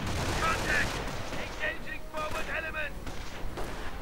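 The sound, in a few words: FG-42 rifle gunfire in a WWII strategy video game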